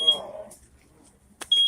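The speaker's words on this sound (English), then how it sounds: "Well, fire alarm." A smoke alarm set off by food burnt under a broiler gives short, piercing high beeps, one at the start and another at the end, with brief talk and kitchen noise in between.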